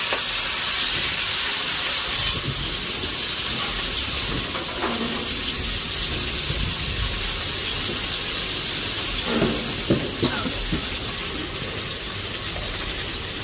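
Onions, curry leaves and green chillies sizzle in hot oil in a pan for a Sri Lankan-style kottu, a steady bright hiss with occasional crackles and stirring clatter throughout.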